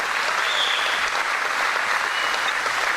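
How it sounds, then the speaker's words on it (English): Crowd applause at a live event honoring a host, a continuous dense clapping roar with a couple of faint whistles or cheers rising above it. "Let's give a round of applause."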